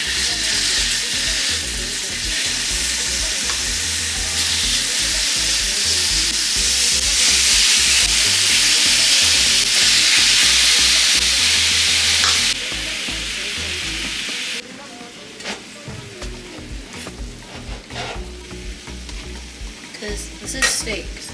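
Steak hisses loudly in hot oil in a pan, a dense, close sizzle that holds steady before dropping to a quieter crackle with occasional stirring clicks.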